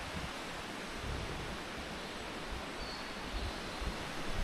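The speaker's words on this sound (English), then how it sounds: "By the water flowing and all." Steady broadband rush of water flowing through a forest on a hike, continuous and fairly loud throughout with no voices.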